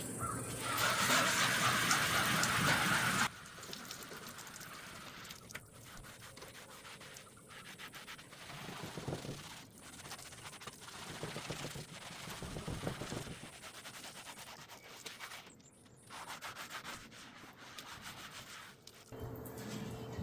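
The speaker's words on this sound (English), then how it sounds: "Now I'm going to fast forward through a montage of scrubbing this thing" Soapy scrubbing of a mold-covered Blackstone griddle: steady rubbing and scraping strokes run throughout, with a louder, harsher burst of scrubbing at the start before settling into an even back-and-forth rhythm, no voices.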